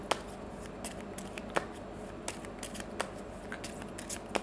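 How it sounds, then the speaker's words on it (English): A tarot card being drawn from the deck, heard as a series of short, crisp card flicks and shuffling snaps at close range, irregularly spaced. "now I'll take out one card here"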